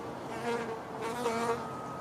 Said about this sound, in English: there's a bee that just came right in front of my body